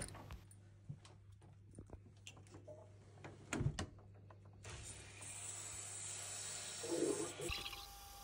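Water hisses steadily through the filling loop into a Worcester Bosch 30si combi boiler over a constant low hum, the rush building midway and running for a few seconds after some faint knocks and clicks, with no talking.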